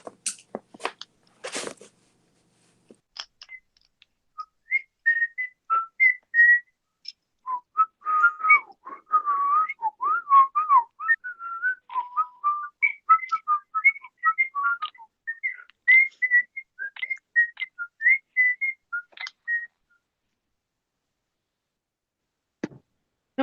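Several people whistle Thomas the Tank Engine tunes together, a long stretch of wavering melodic whistling that is close and clear, with a few sharp clicks at the start and end.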